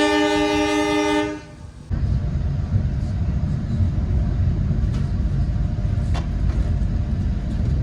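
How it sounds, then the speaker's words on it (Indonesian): An Ijen Express passenger train passes the Tawang Alun train in Indonesia: a loud, sustained horn blast opens, then a steady rumble of rolling wheels with faint rail clicks. "di sini kereta api Icana Express akan bersilang dengan kereta api Tawang Alun ya"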